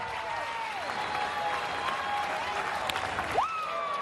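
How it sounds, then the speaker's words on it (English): Steady applause from the crowd at JetBlue Park during a spring training baseball game between the Blue Jays and Red Sox, a continuous even wash of clapping with a faint voice over it. "Appreciative crowd here at JetBlue urging him on."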